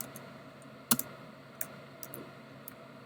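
Typing text on a computer keyboard, a sparse scatter of sharp individual key clicks, one louder than the rest, over a faint steady background hum, with no talking.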